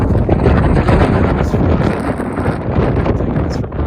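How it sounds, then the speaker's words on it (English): Strong wind gusts on Longs Peak roar and buffet the microphone in a loud, continuous rush that dips briefly and surges again. "Wind is really starting to rip now."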